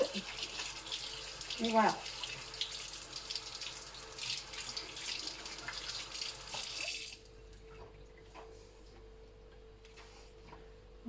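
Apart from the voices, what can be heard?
hot water running from a tap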